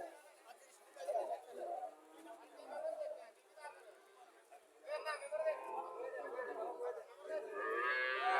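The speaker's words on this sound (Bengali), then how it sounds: "সাইওয়াল জাতের সার বাছুর" Sahiwal breed cattle and calves at a livestock market in Mirshani, Comilla, with low moos rising over crowd chatter and people talking nearby, the whole scene fairly quiet.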